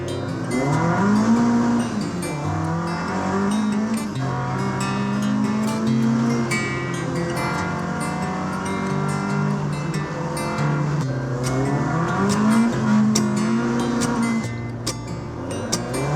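A Ford Mk1 Escort drives on wet roads, heard from inside the car. The engine note rises and falls through repeated gear changes with road and tire noise underneath, and it stays fairly loud throughout.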